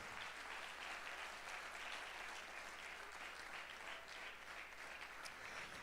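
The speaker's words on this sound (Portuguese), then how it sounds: "Vamos aplaudir ao Senhor" Steady, even applause from a church congregation during a sermon, sustained throughout at a moderate, distant level.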